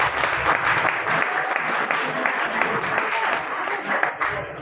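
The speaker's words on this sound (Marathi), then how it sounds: "मला टाळ्यांचा आवाज थोडा कमी येतो" Steady applause from an event audience, a continuous dense wash of clapping hands at even loudness with a voice faintly mixed in.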